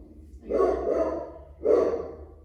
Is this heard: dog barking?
yes